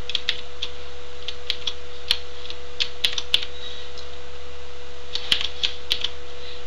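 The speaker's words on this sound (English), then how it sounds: "here I'll type in password" Keys tapped on a computer keyboard while entering a password into an HTML form, a sparse run of light, separate clicks spread unevenly over several seconds, close and fairly quiet, with no talking.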